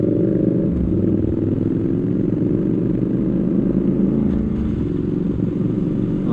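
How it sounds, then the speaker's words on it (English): A Triumph Scrambler 1200XE motorcycle engine runs steadily and loud up close, a continuous throbbing drone with a slight change in tone near the end as a gear is shifted up. "now I just want to go up a gear, just roll the throttle a touch, snick the gear"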